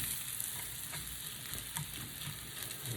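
Peas hiss and sizzle in a hot pan of fried rice with egg. A dense, continuous frying crackle runs throughout, with faint stirring scrapes and no voices.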